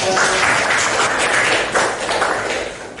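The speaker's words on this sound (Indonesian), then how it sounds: "Oke, tepuk tangan." A class of students applauds during a problem-based learning lesson, steady brisk clapping from many hands filling the room for about three seconds at moderate volume.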